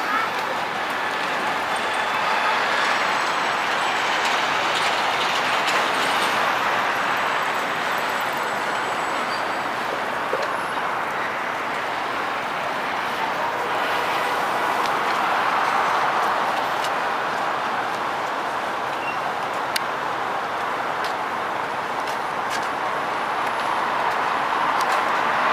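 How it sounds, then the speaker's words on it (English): Continuous loud rumble and rattle from inside a moving subway train carriage, a steady wash of track and wheel noise that holds without a break. "Here we are inside the Japanese subway."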